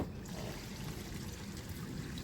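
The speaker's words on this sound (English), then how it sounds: "So I'm just gonna go ahead and pull the gray water now." A trailer's gray water tank drains through a sewer hose, making a steady close rushing trickle and gurgle of water that runs without a break.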